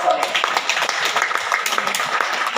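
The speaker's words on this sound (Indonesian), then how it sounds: "Tepuk tangan buat saya" A crowd claps steadily at an open-air Christian sermon in Koweda market, Waropen Regency, with voices mingling into the brisk, continuous applause.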